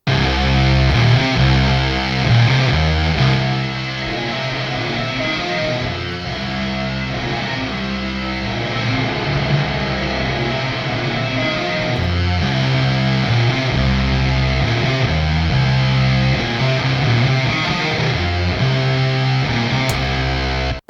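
Heavily fuzzed electric guitar run through the Clairvoyant amp sim with reverb added, playing a dense, sustained riff at steady loudness throughout with a wash of ambient depth and no talking.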